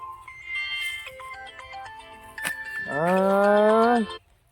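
A melodic phone ringtone plays a short run of electronic notes, then a loud sustained low tone swells before cutting off.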